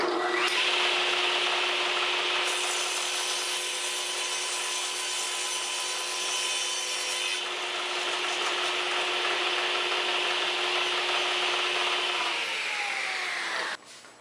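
A table saw cuts steadily through a wood panel guided by a panel cutting jig, with one loud, continuous whine that holds nearly unbroken before winding down at the end.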